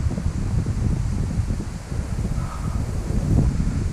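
Strong wind buffets the microphone on a fishing trip on the water, a continuous low rumbling gust that swells and eases without pause.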